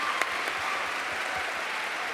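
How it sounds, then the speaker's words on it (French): Audience applause at a TV series festival closing ceremony in honor of a special mention award, a steady dense wash of clapping from a crowd throughout, no voices over it. "Qu'on peut applaudir pour la mention spéciale."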